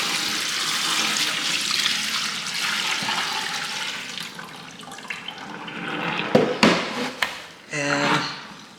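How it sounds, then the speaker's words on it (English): Soaking water draining out of a container holding a hog head, a steady rushing gush of water that thins out, followed by a few knocks and clatters near the end. "I'm now going to drain this water."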